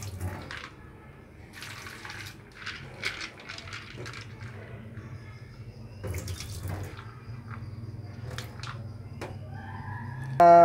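Running tap water rinses date palm seeds clean, a steady faint splash with intermittent handling sounds, and a rooster crows in the background.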